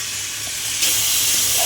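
Washed, soaked mung dal tipped into hot oil with fried spices sizzles in a steady broad hiss that swells louder partway through and holds, close and continuous with no talking.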